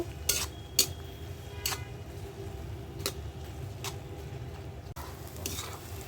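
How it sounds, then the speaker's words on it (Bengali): Onions fry in a pan while a spoon stirs them, giving a low continuous sizzle under sharp, close scraping strokes at irregular intervals. "পেঁয়াজটা লাল করে ভেজে নিব"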